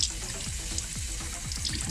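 Tie-dyed fabric being rinsed under a running tap, a steady close rush of water splashing into a sink with soft rhythmic sloshing as the cloth is worked through the stream.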